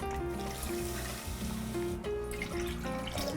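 Water trickles and splashes as it is poured onto sugar in a pan to make syrup for a 1930s apple pie, a steady pour sitting under background music.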